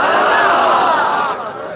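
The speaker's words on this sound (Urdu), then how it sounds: "یہاں پر جو ٹھاٹے مارتا ہوا انسانی ہجوم ہے" A huge crowd gathered on Shab-e-Barat night cheers loudly, a dense, roaring wall of voices that stays strong and then eases slightly toward the end.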